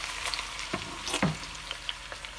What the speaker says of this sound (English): Those onions fly into that pan.